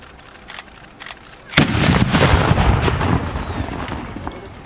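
Gunshot from a historical breech-loading gun at an outdoor demonstration: a single sharp loud blast after faint preceding knocks, followed by a long rumbling decay that fills the rest of the moment.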